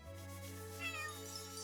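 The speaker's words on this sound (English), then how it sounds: "it sounds like a cat" Cat meowing in the fantasy role-playing game Chained Echoes, a single drawn-out, tonal meow that holds steady for under two seconds and rises slightly in the middle, close and clear with no talk.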